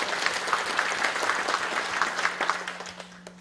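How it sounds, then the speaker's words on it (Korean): Audience applause for a township head at a county community forum in Yongmun, a steady wash of clapping from a crowd that fades toward the end, with no talking. "우리 면장님께도 힘내라고 큰 박수 한번 보내주시고요"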